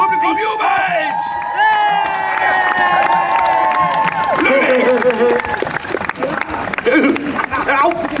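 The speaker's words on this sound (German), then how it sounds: "Das Publikum jubelt!" An audience cheers and shouts at a fairy-tale stage performance, with loud overlapping excited voices, including children, whooping together in a lively continuous burst that stays close and energetic throughout.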